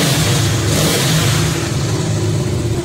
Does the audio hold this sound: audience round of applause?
no